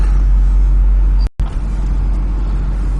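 Pickup truck heard from inside the cab while driving, a loud steady low rumble of engine and road noise, briefly cut by a split-second dropout.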